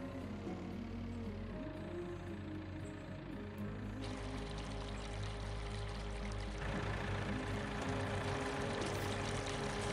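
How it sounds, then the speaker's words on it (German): Water pours in a steady, continuous rushing stream in the video game Farming Simulator 19, with a low droning engine-like rumble underneath and no talking. "Wasser kommt hier rein."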